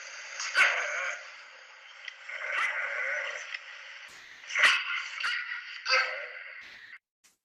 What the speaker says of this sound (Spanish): un perro.